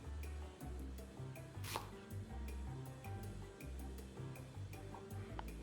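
A knife chops repeatedly through a vegetable on a cutting board, trimming off its ends while making Japanese pork miso soup. The strokes land close and at a steady rhythm, with faint ticking between the cuts.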